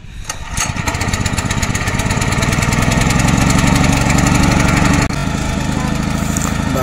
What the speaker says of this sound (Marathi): आता मला पण ट्रॅक्टर चालू करायचं आहे